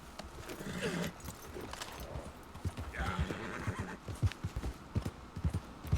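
A horse in the video game Red Dead Redemption 2 whinnies loudly while hooves clip-clop in an uneven rhythm nearby, with a second whinny midway and faint jangling in the background.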